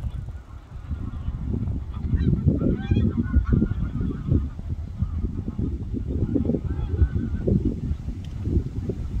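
Geese honking repeatedly in a noisy crowd, calls overlapping with a steady low rumble of birds and activity throughout.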